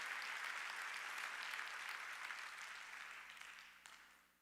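A congregation claps during a Korean Sunday worship service at Jesus Center Church. Sustained, dense applause fills the room and then gradually tapers off toward the end.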